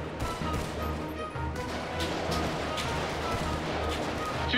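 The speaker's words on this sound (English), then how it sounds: "They're trying to shoot me." Gunfire aimed at the player in GTA 5 roleplay, a dense burst of repeated sharp shots over a rumbling game background, some louder cracks standing out near the middle and end.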